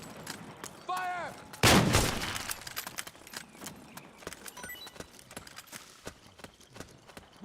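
Gunfire in the Metal Gear Solid 4 video game: one loud burst of shots stands out near the start, followed by scattered sharper cracks and clatter that fade into a busy background.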